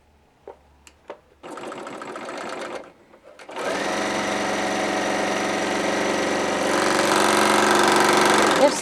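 A Bernina L850 serger runs at high speed through fabric, starting with a few soft clicks and short bursts, then settling into a loud, steady, continuous mechanical whir that builds slightly toward the end.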